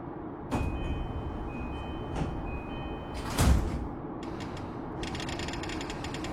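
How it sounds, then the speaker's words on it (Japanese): Train doors sliding shut in the BVE5 simulator on a JR Negishi Line local train, a mechanical rolling clatter with a sharp thump near the middle, followed by a faint high chime, steady cabin rumble throughout. "ドアが閉まります。"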